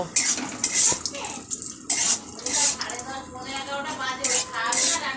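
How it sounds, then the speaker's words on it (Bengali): Raisins fry in a pan as a metal spoon stirs them, with a steady stream of clinks and scrapes against the pan's sides and a soft sizzle underneath. "কিস এবার কিশমিশগুলোকে একটু ভেজে নেব"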